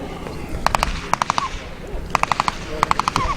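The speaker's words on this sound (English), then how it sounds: "I hear some gunfire behind us." Rapid bursts of automatic gunfire crack out in four separate volleys at a WW2 vehicle show at Sleap, each a quick string of sharp shots, somewhat distant over a rumbling background.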